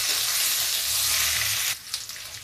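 Boiled jackfruit pieces fry in oil with a loud, dense, close sizzle that stays steady, then drops off sharply partway through to a quieter crackle with a few small clinks.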